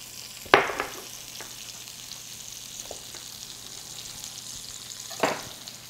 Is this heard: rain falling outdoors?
no